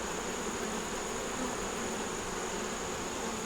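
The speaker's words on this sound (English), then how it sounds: "See all them bees on the bottom?" Honey bees buzz around hive frames lifted from a nuc box, giving a dense, continuous close drone with no talking.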